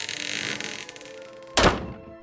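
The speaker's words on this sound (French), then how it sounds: "La porte s'est refermée derrière nous." A door in an abandoned house swings shut with one loud, solid thunk partway through, standing out clearly from quieter background sound.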